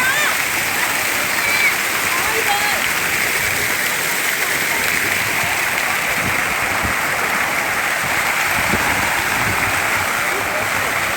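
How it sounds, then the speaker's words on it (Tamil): Fountains of a water show at Brindavan Garden, Mysore, splash in a loud, dense, continuous rush that holds steady throughout, with voices faintly present underneath. "வாட்டர் ஷோ போய்கிட்டு இருக்குங்க"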